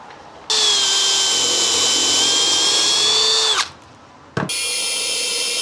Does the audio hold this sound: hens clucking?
no